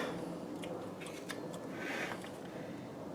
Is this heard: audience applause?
no